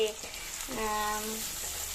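Onion frying in oil in a kadai on a home kitchen stove, a steady sizzle through most of the two seconds, with a voice briefly heard over it.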